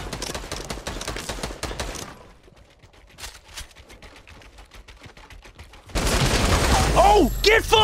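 Rapid LMG bursts in Fortnite Battle Royale, loud then dropping to quieter scattered shots before a sharp return of intense firing, with someone shouting excitedly near the end.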